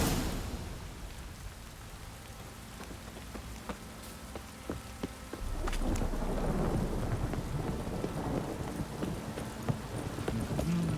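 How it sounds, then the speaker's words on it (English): Heavy rain pours down in a thunderstorm in The Witcher 3, a dense continuous hiss with low rumbling thunder that grows louder and fuller partway through, with scattered sharper impacts. "This downpour's a bastard, it is."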